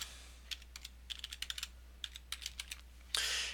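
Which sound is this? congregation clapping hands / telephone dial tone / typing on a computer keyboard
typing on a computer keyboard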